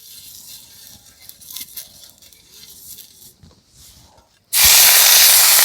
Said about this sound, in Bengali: অল্প একটু জল ছিটিয়ে দিলাম